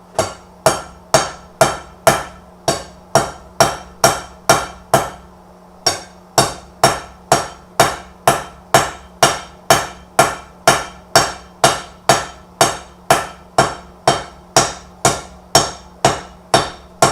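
Power hammer pounding a hot steel taper, a fast, steady train of sharp metallic blows repeating about twice a second, with a brief pause near the middle before the rhythm resumes, loud and close with a low machine hum underneath.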